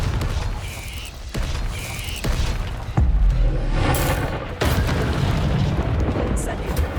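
Repeated Confringo blasting spells cast in Hogwarts Legacy: a series of loud booms and bursts with sharp hits spaced a second or two apart, rumbling fiery crackle between them, all fairly close and dense.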